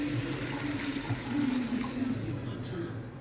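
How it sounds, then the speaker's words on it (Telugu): Water pours into a pot for pasta, heard as a steady splashing, gurgling stream of liquid filling the vessel, moderately loud and continuous for a few seconds. "మనం పాస్తా ఏ కప్తో తీసుకున్నామో సేమ్ కప్తో 3 కప్స్ వాటర్ పోసుకోవాలండి."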